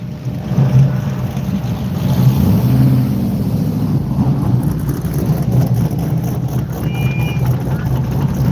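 Race cars pull into the pits at Orlando Speed World during Sick Week, their engines rumbling low and steady nearby while people talk over the noise.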